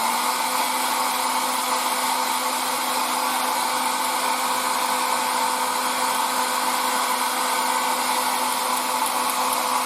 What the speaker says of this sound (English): I can use my hair dryer to dry these two